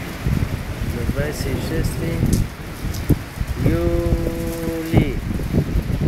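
Steady rain patters and hisses on a surface while people talk over it.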